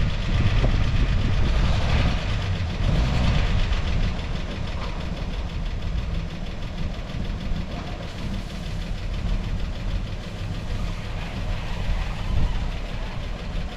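A 1950 panel truck engine runs at a steady idle with a low, rumbling, slightly knocking beat, close by and continuous throughout without any talk.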